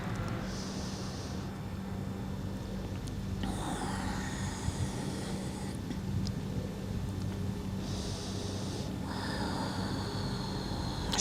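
Slow, deep nasal exhales during a yoga breathing practice, soft airy rushes of breath rising and fading twice over a steady low background hum, close and unhurried, with no talking.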